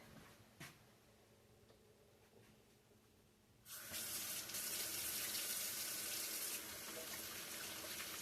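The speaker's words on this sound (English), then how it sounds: "Let me wash my hands and I'll be right back." Water from a kitchen tap runs hard into a sink while hands are washed. The first few seconds are a quiet room with a small clack, then the water comes on loud and steady and keeps running to the end.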